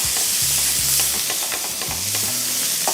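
Bologna slices frying in a pan, a steady loud sizzle throughout with occasional stirring and scraping, no voices.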